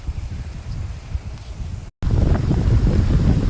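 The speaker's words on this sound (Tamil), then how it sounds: "செம்ம காற்று" Strong wind blasts across hilltop temple steps, a loud, steady roar with buffeting against the microphone, broken by one brief dropout, and no speech.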